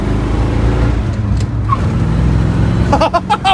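A 1965 Ford Ranchero engine accelerates during a test drive, a loud low rumble from inside the car that rises steadily, with a few short clicks and knocks near the end.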